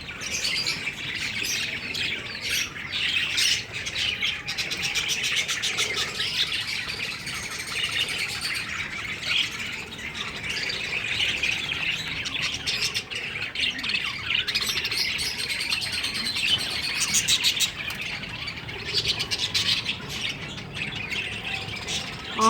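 Pet parrots keep up a constant, dense chatter of harsh squawks and sharp chirps, loud and close, with no break across the whole stretch.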